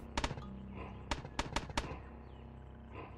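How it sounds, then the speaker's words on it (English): Musket turret firing in the video game Caves of Qud: a handful of sharp, fairly quiet cracks, with one early pair and then a quick cluster of three or four, over a low steady background. "That was a musket turret, okay."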